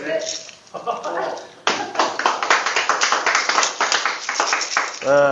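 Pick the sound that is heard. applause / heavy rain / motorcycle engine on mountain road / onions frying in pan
applause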